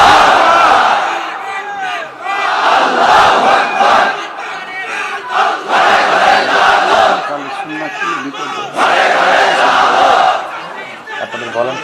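A large crowd at an open-air Islamic religious gathering in Faridpur shouts takbir in unison, several loud surging bursts of massed voices repeating in waves with short gaps between them.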